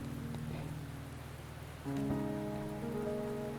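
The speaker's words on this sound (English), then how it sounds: "Don't worry, the rain won't last much longer." Steady rain falls in a video game world, a continuous even patter throughout, with a tonal game sound swelling in partway through.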